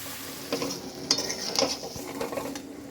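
Prawn curry with potatoes stirred and fried in a pan, a steady close sizzle broken by several sharp scraping and clinking stirs.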